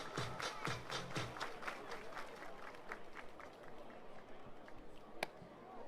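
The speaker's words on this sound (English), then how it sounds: "Everybody clap your hands." Baseball fans in the stands at a Welland Jackfish versus Hamilton Cardinals game clap their hands in a loose, rhythmic burst that fades to scattered claps, with crowd murmur and a sharp single clap or knock near the end.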